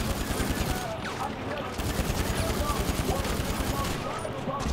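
Rapid gunfire from an AP pistol in Grand Theft Auto V, dense and continuous bursts of shots filling the whole stretch at steady loudness, with game noise layered underneath.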